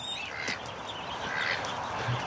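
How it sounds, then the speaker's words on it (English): Young ducks newly released outdoors from a hatchery quack faintly amid a steady background hiss, a few soft calls scattered across a couple of seconds with no talking. "They're ducks. They're young ducks too"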